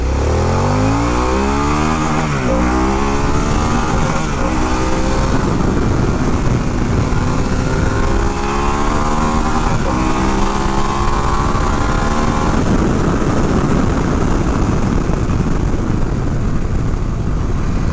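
A 2022 Harley-Davidson Pan America Special motorcycle pulls away from a rolling start, its engine loud and close as it climbs through rising, sweeping revs across the gears for an extended stretch, with no talking.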